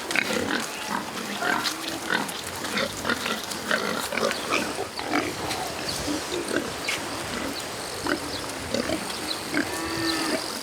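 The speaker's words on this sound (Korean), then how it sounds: "제방 위에서 찾은 돼지를 다시 축사로 몰고 갑니다." Pigs grunting and squealing at close range as they are driven from a riverside embankment back to their pen after flooding from a record monsoon, with scattered voices and commotion throughout.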